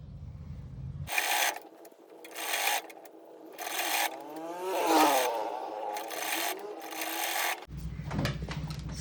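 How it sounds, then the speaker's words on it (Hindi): A sewing machine stitches gathers on a small baby girl's top, whirring loudly in repeated close bursts with short gaps between runs. "अब हम यहाँ पे जो है सिलाई लगा लेंगे।"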